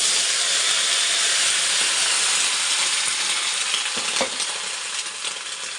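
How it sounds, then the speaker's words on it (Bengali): Panch phoron spices sizzling in hot oil for palong shak, a steady dense hiss and crackle close by with no talking. "এখানে দেখো তেলটা গরম হয়ে গেছে, আর আমি তেলের মধ্যে একটু পাঁচফোড়ন দিয়ে দিলাম।"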